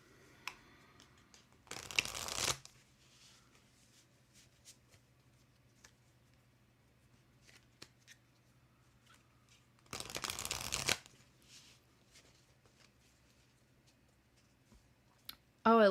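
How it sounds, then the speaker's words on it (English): Tarot cards are shuffled in two short, crisp bursts several seconds apart, with near-silence and faint clicks between them. "Lana, I'm pulling a card for you at this time."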